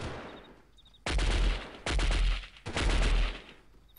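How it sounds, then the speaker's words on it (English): Gunfire in the video game Delta Force, Uzbekistan mission in a junkyard: three loud, close bursts of automatic fire, each about a second long, separated by short quieter gaps. "I think they're shooting at me at this point."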